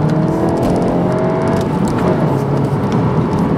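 Volkswagen Golf GTI engine pulling hard in second gear, a loud, steady close-up roar with a continuous whirring drone and no talk.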